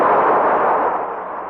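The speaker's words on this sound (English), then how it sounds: "The explosion had created a sort of earthquake." An explosion sound effect in an audio drama sets off a loud roaring blast of broad rumbling noise that starts at full force and slowly fades, with no voices over it.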